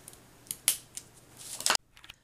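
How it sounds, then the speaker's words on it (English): Scissors trimming excess sticker pieces off a paper craft tag, with a few crisp snips building to a quick cluster of cuts before stopping, close and clear with no talking. "then you can always come back and trim off the excess sticker pieces"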